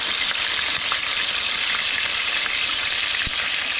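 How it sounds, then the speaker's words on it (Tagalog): Chicken liver sizzles and crackles steadily in hot oil, close up, with a constant frying hiss and small pops. "ang atin pong atay ay prito-prito lang po natin muna ng konti"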